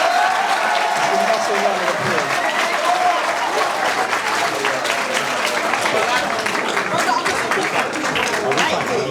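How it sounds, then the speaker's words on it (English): A crowd applauds steadily throughout a graduation ceremony, dense clapping with cheering voices mixed in, loud and sustained. "Let's give him a round of applause, please."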